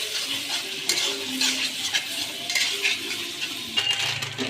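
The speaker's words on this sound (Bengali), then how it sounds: "এটাকে কিছুক্ষণ ভেজে নেবে তেলের মধ্যে।" Capsicum pieces fry in oil while a mutton curry is being cooked, giving a steady sizzle broken by frequent clinks and scrapes of a utensil against the pan.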